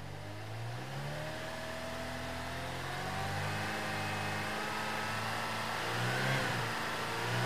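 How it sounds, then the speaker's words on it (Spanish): A car engine revs up steadily as the vehicle accelerates, a smooth rising drone that grows gradually louder over several seconds, heard alone at moderate volume. "estábamos acelerando el vehículo"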